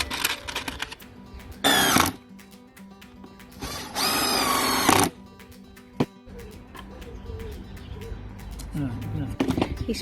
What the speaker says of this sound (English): drill the two holes at the bottom so that he can connect the bottom two planks to the sides